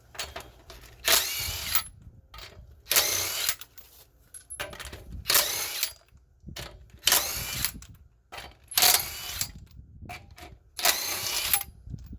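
An impact wrench with a 21mm socket working on a 2003-09 Toyota 4Runner wheel: six short, loud rattling bursts about two seconds apart, close by, with quiet gaps between and no speech.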